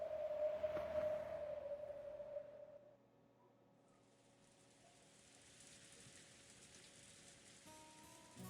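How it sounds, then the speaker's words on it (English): Heavy rain pouring down in the Umineko When They Cry visual novel, a steady wash of rainfall that swells after a quieter opening, with a sustained tone at the start and no voices. "Outside, the rain had started to pour down hard."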